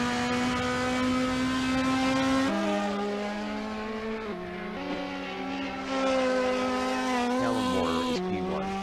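A Ferrari 4.5 litre V8 race car in the Assetto Corsa racing game screams at high revs, its pitch stepping down and climbing through gear changes, loud and continuous with no talk.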